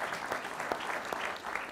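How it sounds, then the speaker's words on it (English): Brief, fairly quiet applause from an audience at a church lecture on early Christian worship, a soft, even patter of many hands with no voices over it. "For that, we should stop and applaud."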